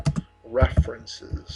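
Typing on a computer keyboard while searching for resume templates in Microsoft Word, a few quick close key clicks heard between and under a person speaking.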